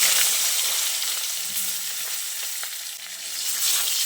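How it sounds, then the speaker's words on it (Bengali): Sliced brinjal pieces frying in hot oil over a high gas flame, a steady dense sizzle running the whole time with a few faint stirring knocks, close and fairly loud. "এবার ওই তেলের মধ্যে যে বেগুনগুলো কেটে রেখেছিলাম সেই বেগুনগুলো দিয়ে ভেজে নিচ্ছি।"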